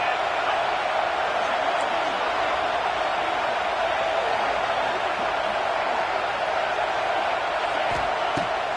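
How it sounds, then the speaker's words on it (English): A stadium crowd at a football game fills the air with a steady, dense roar that holds level throughout without breaks. "This crowd bringing the energy and noise early."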